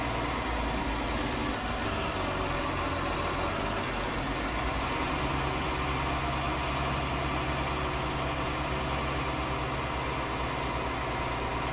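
Tractor engine runs continuously while compacting a silage clamp in Thuringia, a steady loud diesel drone with rumbling low end and no pauses.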